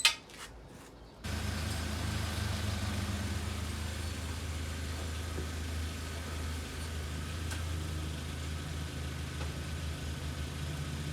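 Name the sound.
Volkswagen Passat 1.8T engine idling after oil change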